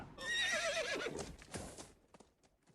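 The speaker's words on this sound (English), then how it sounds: "Then they heard horses across the river." Horses whinny loudly and nearby, followed by quick clip-clopping hoofbeats that grow fainter and sparser toward the end of the short burst.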